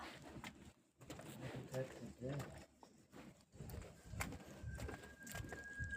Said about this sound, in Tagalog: You heard the sounds of the bird?